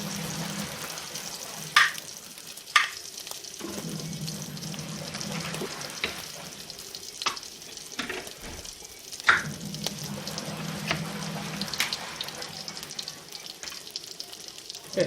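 Garlic sautéing until crisp in a pan for a village-style spaghetti, a soft steady sizzle with occasional clinks and stirring knocks, fairly quiet and close, with no talking over it.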